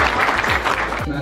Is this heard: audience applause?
yes